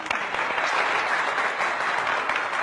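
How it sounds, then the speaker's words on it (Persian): An audience claps for musicians after a remix performance, a dense, steady burst of applause close by that carries on without any talk. "یک کف محکم"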